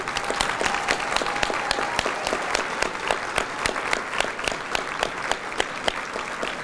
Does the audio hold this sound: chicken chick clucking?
no